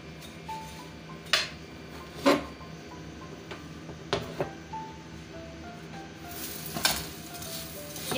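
Ghee hitting a radish paratha on a hot griddle gives a quiet sizzle, broken by a few sharp clicks and scrapes of a utensil against the pan.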